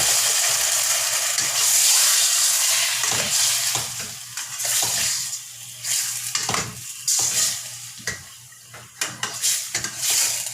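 Meat for humba sizzles loudly in a pan of sautéed onions and garlic, a bright steady hiss broken by frequent stirring scrapes and light utensil knocks, close and without talk.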